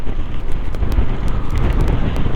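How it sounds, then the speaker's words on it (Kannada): Strong wind blasts across the microphone at a waterfall viewpoint in the hills of Chikkamagaluru, a loud, steady rumbling roar with constant buffeting and no voices. "ಏನು ಗಾಳಿ ಹೊಡಿತಾ ಇದೆ ಗುರು ತೂರ್ಕೊಂಡು ಹೊಡಿತಾ ಇದೆ"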